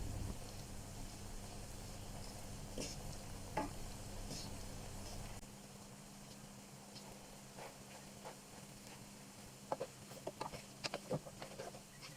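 Chana biryani of rice and chickpeas being stirred and mixed in a pot, soft scraping and clinking against the pot while a faint sizzle continues and a low hum drops away partway through.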